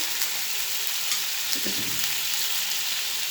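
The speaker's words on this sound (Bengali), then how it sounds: "পানি ঢেলে দিলাম দিয়ে মশলাগুলো কষিয়ে নিব" Spices with onion, garlic, cumin, dried chilli, coriander and turmeric powder fry in a pan after a splash of water, giving a steady close sizzle with a brief stirring scrape midway.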